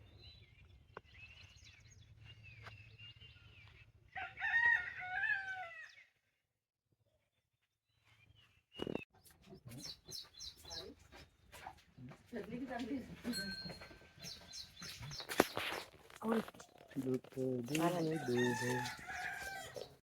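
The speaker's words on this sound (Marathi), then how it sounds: "कोंबड्याचं आरवणं" In a Konkan village at morning, a rooster crows near the start and again later, mixed with clucks and bird calls, while a person talks over much of the second half.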